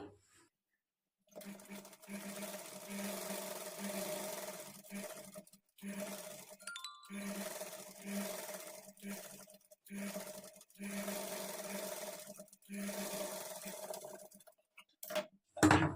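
A sewing machine stitches a half-inch seam on a princess cut padded blouse, running in several short bursts of steady whirring separated by brief pauses, fairly quiet, with a small clink near the end.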